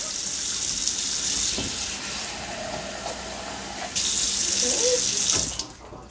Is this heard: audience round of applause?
no